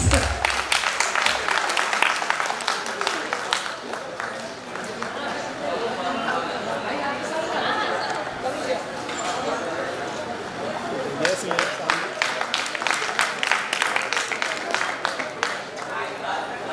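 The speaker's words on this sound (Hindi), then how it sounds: "तो जोरदार तालियां प्लीज" Audience applause at a Founders Day welcome ceremony, sustained crowd clapping with chatter mixed in, loud and continuous, with bursts of sharper claps toward the end.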